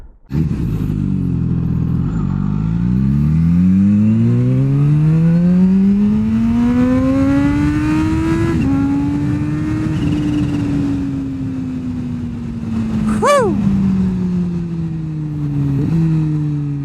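A Kawasaki H2 SX SE motorcycle fitted with a Scorpion slip-on exhaust accelerates hard on a ride, its engine note climbing steadily through a long gear, then shifting and revving again, loud and close.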